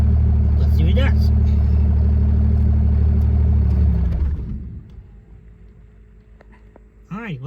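Dodge Ram 1998.5–2002 Cummins diesel truck engine with a weak VP44 injection pump runs loud and steady for about four seconds, then drops away to a quiet idle; a voice comes in briefly near the end.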